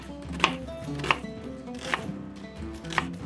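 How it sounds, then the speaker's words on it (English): Onions are chopped with a knife in four sharp, distinct strikes against a board at uneven intervals, close and clear over a low steady background hum. "we're going to chop up our onions"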